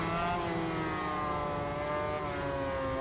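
A 500cc two-stroke racing motorcycle in MotoGP 21 at Laguna Seca holds a steady, high, buzzing drone at a constant loud level, alone and without talk.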